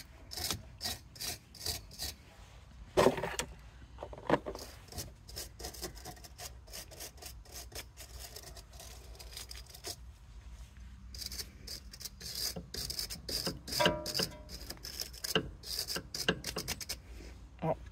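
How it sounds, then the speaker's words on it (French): A brush scrubbing grease off a steering joint on a Jeep Renegade, heard as quiet, irregular bursts of rasping strokes with short pauses between them, close to the microphone. "Je vais chercher une brosse pour nettoyer de la graisse"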